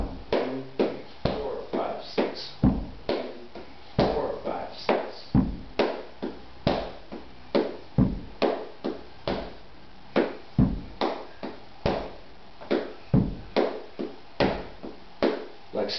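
Flamenco bulerías palmas: sharp handclaps in a steady 12-count rhythm with accented beats, close and dry, continuing alone for the full length without talk.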